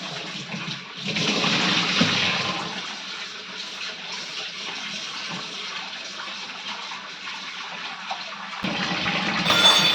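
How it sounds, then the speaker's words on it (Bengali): Tap water runs steadily over prawns being rinsed in a home kitchen while cooking kakrol with prawns, a close, continuous splashing rush that lasts throughout with no talking. "আর এবার ধুয়ে নেব চিংড়ি মাছগুলো।"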